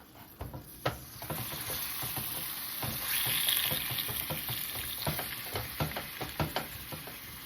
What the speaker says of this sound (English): we're just gonna break this up and start browning our beef.